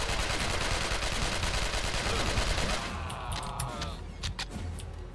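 Dense gunfire from the PC game Alcatraz: In the Harm's Way, a loud sustained volley that cuts off abruptly, followed by a few scattered sharp shots.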